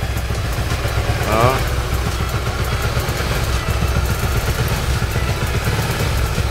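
A motorcycle engine idles steadily throughout chain cleaning at home, a constant low rumble close by, while someone talks over it.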